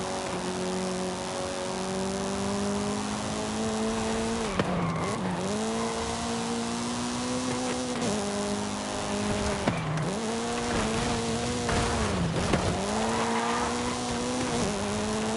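Race car in Forza Horizon 5 launching hard off the line, a loud sustained engine note climbing through several gear shifts with tire squeal, steady and close throughout.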